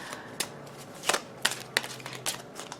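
Deck of tarot cards being shuffled by hand, a series of quick riffling bursts and slaps at irregular intervals, close and fairly quiet with no voices.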